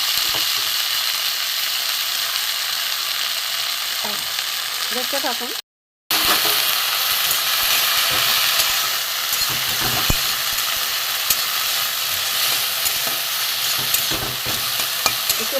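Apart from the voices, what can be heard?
flowers frying in mustard oil in a wok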